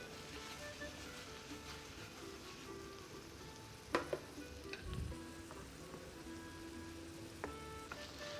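Vegetables fry in a pan with a steady soft sizzle and crackle, broken by a few sharper clinks and scrapes as they are stirred, fairly quiet and close.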